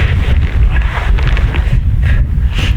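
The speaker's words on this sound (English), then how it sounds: "We've been waiting for the wind to come up, and it's starting to" Cold wind picks up across open Southern Alberta country, a loud, continuous low rumble with gusty buffeting against the microphone and no voices.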